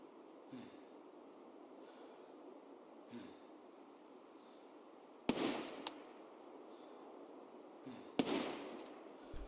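Gunfire in Escape From Tarkov, two sharp loud bursts of shots standing out over a steady low rumble, with fainter thumps scattered before them and no voices.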